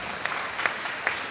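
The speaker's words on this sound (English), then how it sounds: "make sure everyone clap for Nikki" Commencement audience at Penn State Brandywine applauding a graduate: a short burst of dense crowd clapping with a few sharper claps popping out, steady and fairly loud, with no talking.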